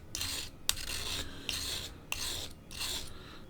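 A blade is drawn across a fine diamond hone, the finest of a three-piece set, in about five steady rasping strokes with brief pauses between them. The scraping is close but soft, with no talking.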